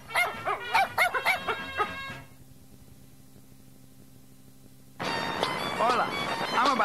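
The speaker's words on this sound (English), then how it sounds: "I have some really vicious dogs in here." Dogs bark in a quick series of yaps on an answering machine message, then a pause of near silence follows, after which a dog howls and yips loudly nearby.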